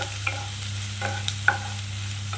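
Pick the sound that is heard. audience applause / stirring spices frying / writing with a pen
stirring spices frying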